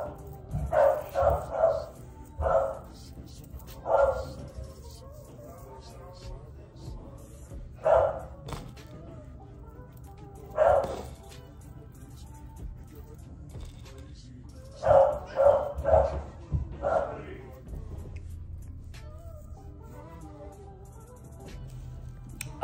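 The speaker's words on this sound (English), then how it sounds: "That's my dog." A dog barks in clustered bursts of two to four sharp barks separated by pauses, close and fairly loud, with occasional thumps, a quiet whimper and low background hum between barks.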